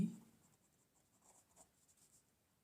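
A pen writes out a maths solution on paper, making faint, soft scratching strokes in short bursts with no voices.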